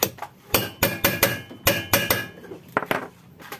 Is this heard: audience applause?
no